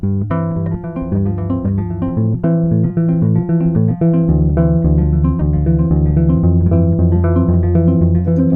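A dry, clean Orangewood rubber bridge guitar, played direct into an interface, plays a fingerpicked pattern with layered ringing notes and low bass lines, steady and close without added effects.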